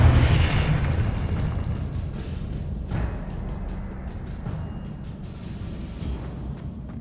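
Spell blasts and explosions in the video game Hogwarts Legacy, a dense rumbling stream of booming impacts with a sharper burst near the start, loud and continuous with a sustained low roar throughout.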